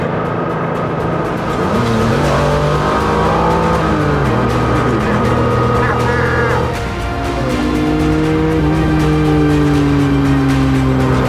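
Porsche 911 GT1 with a mid-mounted 3.2-litre twin-turbo flat-six, driven on a country road: loud, sustained engine drone rising and falling through gear changes, revving up strongly, heard close from inside the car.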